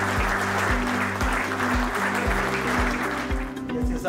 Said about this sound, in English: This is a big round of applause for the